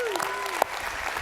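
Brief burst of audience applause at a CLC church service welcoming Pastor Shane Walters, with a sharp clap-like hit and speech-like tones over the clapping.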